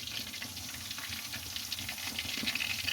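Chicken drumsticks shallow-frying in oil in a pan over a low flame, a steady, soft crackling sizzle with fine spitting pops throughout, close by and without talk.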